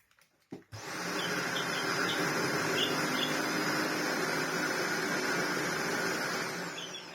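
A Shark AX950 vacuum's brush head motor whirs up after a couple of soft knocks, then holds a steady, fairly close droning hum with faint high whines riding on top for several seconds.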